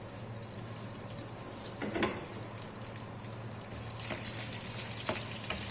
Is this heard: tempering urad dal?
yes